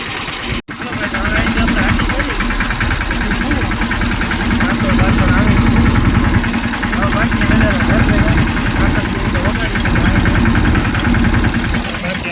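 A farm tractor's engine runs steadily and loudly throughout, a continuous low rumble with vibration that holds at an even level after a brief dropout near the start.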